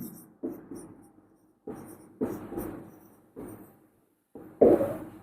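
Chalk or marker strokes on a classroom board, forming a short English sentence in several separate bursts of scratchy writing with brief pauses between them, close and clear with no talking.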